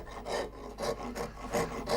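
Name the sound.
wood rasp smoothing a carved wooden barrel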